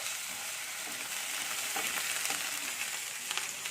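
Ginger garlic paste with onion sizzling and frying in a hot pan, a steady crackling hiss throughout with a few brief stirring clatters.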